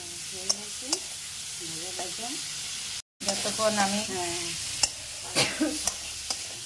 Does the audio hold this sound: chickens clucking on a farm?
no